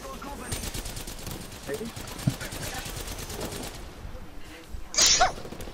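Rapid automatic gunfire bursts in the Apex Legends battle royale game, repeated rattling volleys through the first four seconds and a sharper burst near the end, with voices talking underneath.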